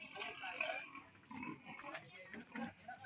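A 300 kg pig grunts in its pen on a farm, giving several low, close grunts over a few seconds as people talk nearby.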